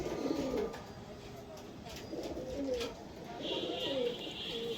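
Nile Kamagar pigeons, a breeding pair with a male, coo in monsoon breeding season: soft, low, rolling coos repeat several times close by over a quiet background.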